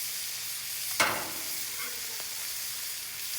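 Sausages fry on a hot grill with a continuous steady sizzle and hiss, broken once by a sharp metallic tap of a utensil against the cooking surface.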